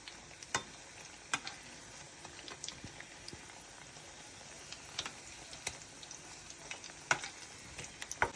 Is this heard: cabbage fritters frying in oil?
yes